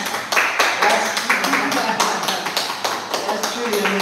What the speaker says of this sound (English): we'd just like to give Mr. Ashby, Mr. Troy William Ashby of Bermuda College, a huge round of applause for that